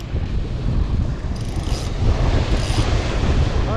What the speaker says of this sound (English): there's a little bit of wind around this side